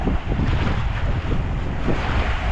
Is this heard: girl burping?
no